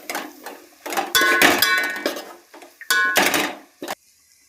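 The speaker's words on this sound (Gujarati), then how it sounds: "આપણે લીલું તુરનો ભૂકો નાખી દઈશું અને આખું મિક્સ કરી લેશું." A spoon stirring and scraping crushed green pigeon peas in a metal pan, bursts of clattering and scraping in uneven strokes with short pauses, close and fairly loud, no voices.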